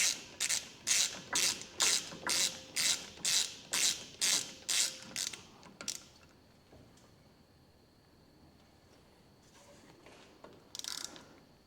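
A ratchet tightens the hub retainer bolt on a Toyota Hilux LN167 during wheel bearing work, with about ten even, rhythmic strokes of close clicking. A quiet pause follows, then one short final burst of clicks.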